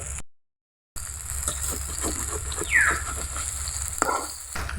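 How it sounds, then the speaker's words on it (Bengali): Gandhabhadal leaf fritters fry in hot oil while being turned with a slotted ladle: a continuous dense sizzle with scraping stirs and soft clinks, after a brief silent gap near the start. "এভাবে নেড়ে চেড়ে বড়াগুলোকে ভেজে নিতে হবে"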